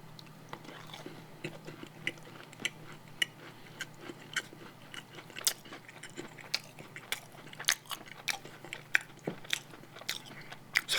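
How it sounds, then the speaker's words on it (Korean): A green-tea-colored macaron bitten and chewed close to the mic, with crisp little crunches and soft mouth sounds coming irregularly over a quiet room, and no talking. "제가 마카롱을 최대 몇 개 먹을 수 있는지 오늘 그거 한번 테스트 해볼 수 있는 날인 것 같네요"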